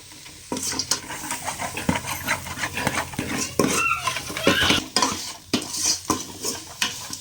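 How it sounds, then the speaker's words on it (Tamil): Tomatoes sautéing in a pan for crab rasam: a spoon stirs and scrapes against metal in repeated close knocks over a soft steady sizzle. "தக்காளி ஒரு 2 செகண்ட் நல்லா வணக்கிட்டோம்"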